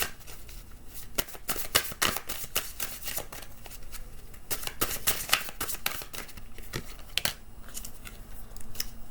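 Tarot cards being shuffled for a reading, a dense run of crisp riffling and flicking bursts that repeat steadily throughout, close and fairly quiet, with no talking.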